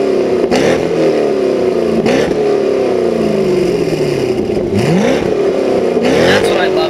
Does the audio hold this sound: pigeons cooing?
no